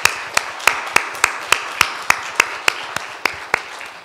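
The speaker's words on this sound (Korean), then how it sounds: "자, 이분들을 위해서 한번 감사의 박수 한번 하겠습니다." Thanks offered by a church congregation: about a dozen sharp, evenly spaced claps in a steady rhythm, close and clear, with little else around them.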